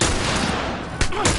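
Gunfire in The Last of Us, loud and dense throughout, with sharper shot bursts near the end over a constant noisy bed.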